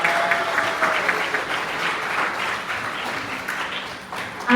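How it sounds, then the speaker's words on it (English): Audience applause at a green growth convening on Saipan, a full, fairly close crowd clapping steadily throughout with slight swells, a faint tone running underneath early on. "let's give a good round of applause"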